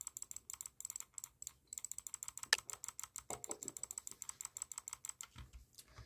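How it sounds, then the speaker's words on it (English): Rapid normal clicking on a Pwnage Symm 1 gaming mouse produces a steady, fast series of sharp, crisp, close clicks in an even rhythm, fairly quiet, with no talking. "I guess I'll do normal clicking."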